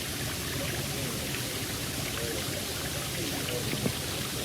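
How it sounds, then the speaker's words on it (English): Steady, dense rush of running water, like a stream or pouring flow, constant and close with no pauses. "Just the sound of water is magic."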